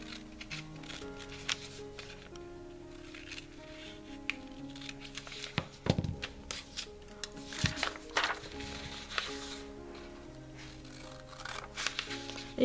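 Scissors snip through paper to cut out an antique picture, giving soft irregular crisp cuts and rustling against a faint background hum with no talking.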